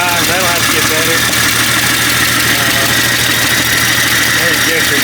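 A freshly rebuilt engine, just back together after four months of work and showing some blow-by, idles steadily with a continuous low rumble while excited voices talk over it.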